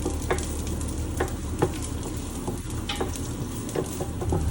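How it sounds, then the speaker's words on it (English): Diced garlic cloves frying in a pan for Khmer glass-noodle stir fry, a steady close sizzle broken by repeated sharp utensil scrapes and taps as it is stirred, with no talk. "We stir the garlic until it's a bit golden."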